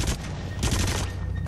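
Rapid bursts of gunfire crack in the horror shooter Until Dawn: Rush of Blood, two dense volleys close together, loud and near with no voices.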